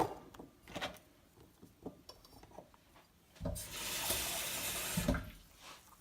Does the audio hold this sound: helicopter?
no